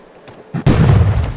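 A bomb blast in the Props vs Hunters hide-and-seek game, a small pop followed by a loud, close, booming explosion that rumbles on for the rest of the moment.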